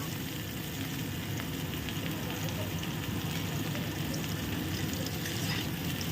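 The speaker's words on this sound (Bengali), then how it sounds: "সুন্দর একদম লাল করে ভেজে নিই আগে।" Dense, even hiss of food frying in mustard oil, a continuous crackle that holds steady without pauses.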